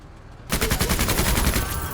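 A machine gun fires in the tactical video game MENACE, a sudden loud sustained burst of rapid, evenly spaced shots that starts abruptly after a brief quiet moment and runs to the end.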